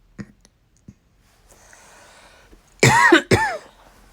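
A couple of small clicks, then a soft breath, followed by two sharp, close coughs in quick succession.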